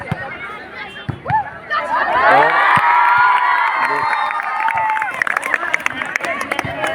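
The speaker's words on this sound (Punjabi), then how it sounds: "ਤਾੜੀਆਂ ਵੱਜ ਰਹੀਆਂ ਨੇ" Applause and cheering from a crowd at a zonal-level school volleyball tournament match, a dense roar of claps and shouts that swells after a couple of seconds and stays loud, with scattered voices throughout.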